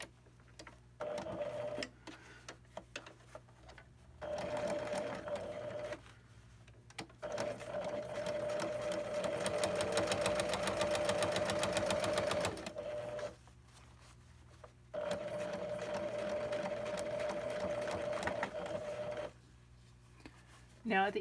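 A sewing machine top stitches the edge of a cargo pocket on a pair of pants, whirring in close bursts of several seconds each with short pauses between runs, the longest run in the middle.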